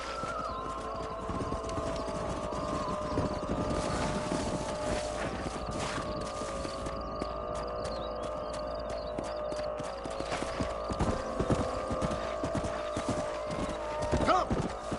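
Horses' hooves clip-clop in an uneven rhythm over a windy outdoor background, moderately distant, with brief voices now and then.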